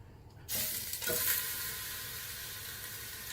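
Large oxtail pieces hitting a hot steel pot set off a sudden loud sizzle that flares once more, then settles into a steady, close frying hiss with no talk.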